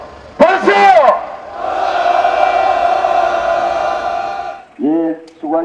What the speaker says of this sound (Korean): 동지들 함성 한번 지르겠습니다